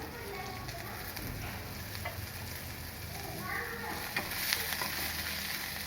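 Chopped onion with a pinch of asafoetida sautés in a pan, a steady close sizzle with occasional stirring scrapes and small crackles throughout.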